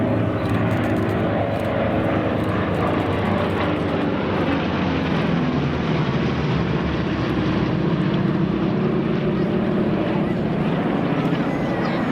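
Three P-47 Thunderbolt fighter planes fly overhead at the Central Coast Airfest airshow in Santa Maria, California, a loud continuous piston-engine roar that swells and fades across the sky, mixed with wind noise and crowd murmur.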